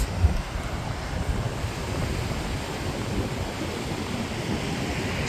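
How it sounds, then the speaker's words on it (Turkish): Sea waves on the Ünye shore at dusk, a steady low wash of surf mixed with wind rumble on the microphone, continuous and moderately faint with no talking. "Ünye'de sadece denizin sesi bile yetiyor biliyor musunuz?"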